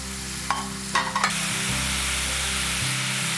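Carrot and onion sizzle steadily in oil in a pan for a Hyderabadi paneer curry, with a few quick clinks of a spoon stirring early on over a constant hiss and low hum.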